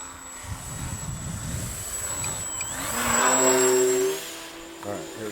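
A Twisted Hobbys Crack Turbo Beaver, a 35-inch EPP RC plane, with its electric motor whining through a knife-edge spin, rising in pitch and loudness before cutting back, while a voice talks over the start.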